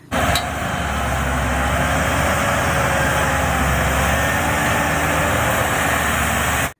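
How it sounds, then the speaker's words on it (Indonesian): A loud, steady engine drone runs throughout, a deep, continuous rumble with no change in pace, from a toy rice-field plowing tractor. "traktor untuk membajak sawah"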